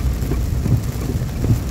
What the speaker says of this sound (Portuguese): Chuva forte agora.